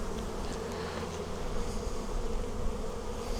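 A dense, steady hum rises from honey bees crowding the frames of a big early-spring production hive, close and continuous with a slight swell in loudness midway, no voices.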